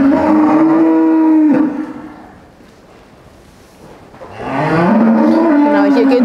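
Dairy cows in a cool, fan-ventilated barn on a farm estate, two long, loud, close moos separated by a quiet pause, with no talking.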